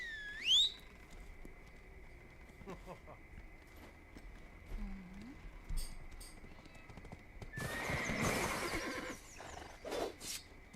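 A short, high horse whinny in the video game Black Desert at the start, followed by scattered hoof clops and shuffling, with a faint steady tone underneath.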